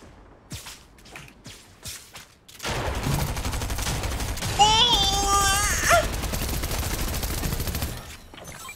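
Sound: tactical shotgun gunfire in Fortnite video game

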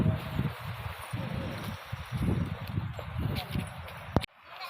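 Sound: wind blowing

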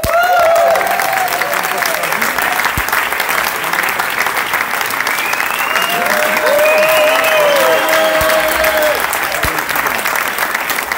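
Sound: audience applauding loudly

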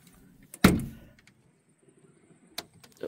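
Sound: garage door being shut

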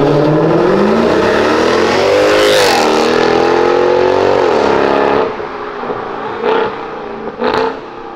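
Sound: McLaren car engine accelerating and roaring

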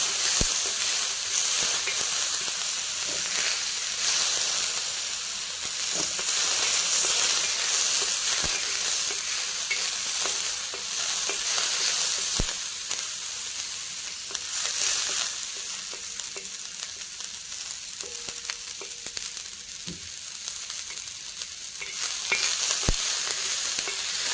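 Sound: green chillies and tomatoes roasting in a pan

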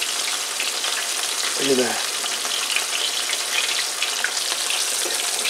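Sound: flounder frying in boiling oil

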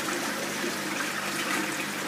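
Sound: water flowing into DIY foam fractionator in barrel filter

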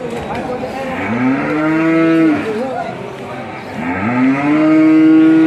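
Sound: cattle mooing

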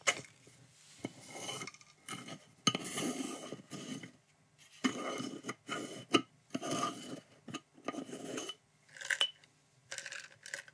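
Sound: small stamps tumbling inside a glass jar, tapping the glass

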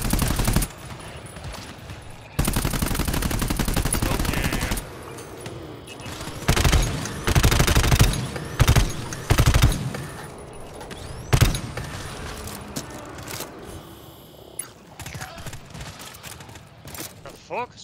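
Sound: gunfire in the video game GTFO

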